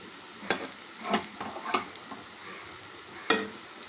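A spoon stirs cooked rice into vegetables in a pan, making several scraping, clattering strokes with a faint sizzle underneath, fairly close and otherwise quiet.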